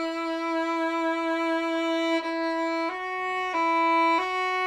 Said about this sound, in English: we're actually going to pinch the string down and try to play with real vibrato